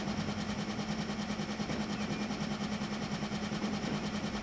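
A train engine in Transport Fever 2 gives a constant low, rough mechanical drone with a steady rapid pulsing, moderately loud and unbroken, with no talk over it.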